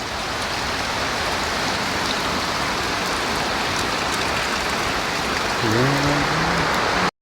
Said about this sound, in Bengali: কম মিডিয়াম সাইজে একটা বৃষ্টি দিচ্ছে